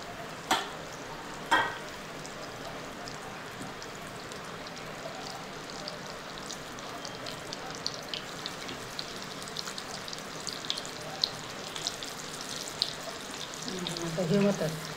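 Bangda mackerel fish frying in a pan of hot oil, a steady crackling sizzle with a few sharp pops, heard alone and close.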